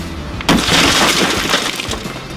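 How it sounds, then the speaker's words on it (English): A rescue tool strikes a car's tempered side window, which bursts with a sudden loud crack followed by a sustained crunching, tinkling shower of shattering glass during a vehicle extrication drill. "strike that to the point where if my tool does carry into the passenger compartment, it will be stopped by the corner of the glass"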